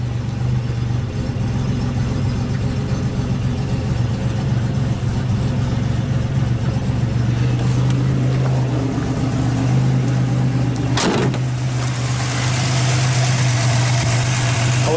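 Rebuilt engine of a 1986 Buick Grand National idling steadily right after its first startup, a loud, close, constant rumble with an even low hum, and a brief clatter near the end.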